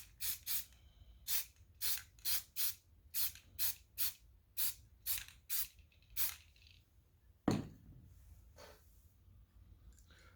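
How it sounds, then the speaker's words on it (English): Aerosol spray paint being applied in a craft setting, a regular series of short sharp hissing bursts close by, around a dozen in quick rhythm, followed by a single louder clunk and quiet. "I have copper spray paint, I have gold spray paint, I have yellow, I have red, I have orange."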